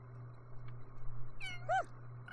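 A cat in The Sims 3 gives two short, faint meows close together over a low steady hum and quiet game background.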